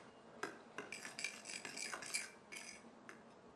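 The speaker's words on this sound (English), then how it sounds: "Now that the dry ingredients are all in, I'm just going to combine them." A utensil stirs and scrapes dry banana bread ingredients in a bowl, with a quick series of faint clinks and scratches at close range.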